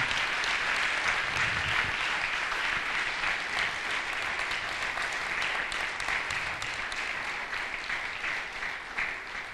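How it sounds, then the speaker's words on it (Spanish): A church congregation applauds in a sustained, dense burst of clapping that holds fairly loud and steady for about ten seconds before easing slightly at the end. "¿No se anima a darle un aplauso al Señor y despertarse un poquito?"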